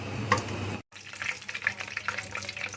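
Whole cardamom and cinnamon sizzling in hot oil for chicken white karahi, a close crackling hiss with a brief cutout before the frying picks up again with small pops.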